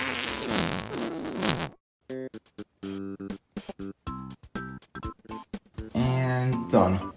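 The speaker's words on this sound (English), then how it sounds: "So now we press a key. And make a fart noise." A piano with whoopee cushions stuffed inside gives a loud, brassy fart noise, then a run of short, rhythmic, buzzy bursts, with a voice talking at the start and the end.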